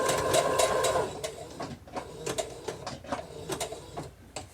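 A sewing machine runs a buttonhole stitch while appliqueing fabric: a close run of sharp rhythmic mechanical clicks and whirs that slow to spaced ticks, with no one talking.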